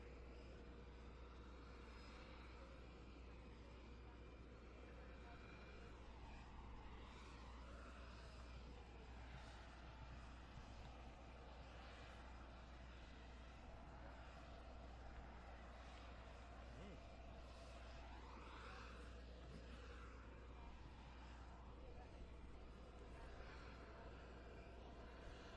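The presidential airplane's engine runs before departure at an airport in Arizona after a Turning Point event, making a loud, constant roaring drone that continues unbroken throughout. Voices can be heard faintly beneath it.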